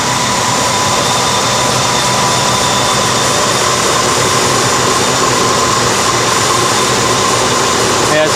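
A 1995 Ford Crown Victoria LX engine runs steadily after a cold start in winter, a loud, continuous broadband drone with a constant whine, close up and unbroken by voices.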